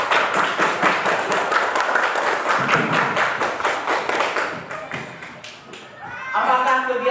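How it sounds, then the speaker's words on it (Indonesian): Group of people clapping hands in a classroom coaching session, a burst of brisk clapping that fades out, followed by voices. "Tepuk tangan untuk Raisa"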